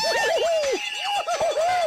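Cartoon character voices from the Tom and Jerry fighting game squeak and warble in quick, bouncy pitch swoops, close and bright, with no background music.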